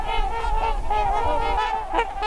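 Loud, close trumpeter swan calling, a continuous run of nasal, horn-like honks with brassy harmonics and no voices or other sounds.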